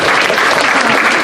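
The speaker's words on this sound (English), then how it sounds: "Give her a round of" Loud, dense audience applause fills the room at a charity furry convention show, steady and unbroken from start to finish with no talk over it.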